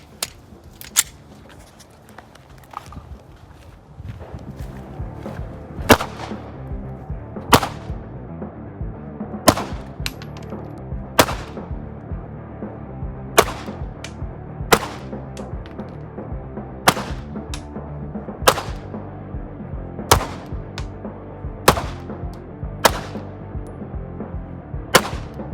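Sharp, loud gunshots from a ZEV OZ9 pistol ring out one at a time at a steady, unhurried pace, about a dozen evenly spaced reports over a low background hum, with no talking.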